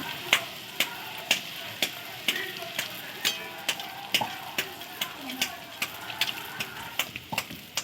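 Suji luchi frying in hot oil in a pan while oil is spooned over them as they float, giving a steady crackling sizzle with regular sharp pops about every half second, moderately close and without talk.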